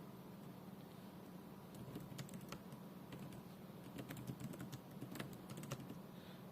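Fast, uneven typing patters on a computer keyboard, faint and close, the light key taps running steadily over a low background hum.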